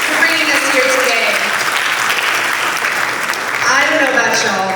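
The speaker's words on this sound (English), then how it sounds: "Let's do one more round of applause for Mr. Accompanies and Sina for bringing us here today" Conference audience applauding, a dense wash of clapping that holds steady for several seconds and swells again near the end, with a voice speaking over it.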